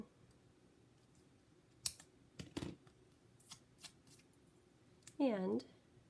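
Scissors snip off the end of a strip of glittery card decoration, a few sharp close clicks and brief rustles of paper, with a louder cutting crunch near the end and no talking.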